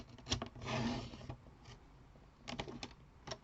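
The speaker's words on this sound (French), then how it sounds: "vous vous placez à 12 cm et vous allez couper directement" A blade slices straight along a ruled line through a sheet of paper for a folded card, giving a short scraping cut followed by soft taps and rustles of paper being handled, quiet and close.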